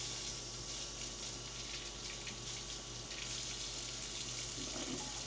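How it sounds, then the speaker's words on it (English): Tap water runs steadily into a kitchen sink as food is rinsed under it, a continuous hissing gush that holds nearly even for a few seconds with no voices. "Let's give that a little rinse."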